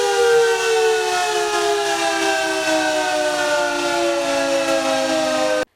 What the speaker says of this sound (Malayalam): നഗരസഭയുടെ സൈറൺ മുഴങ്ങിയതോടെ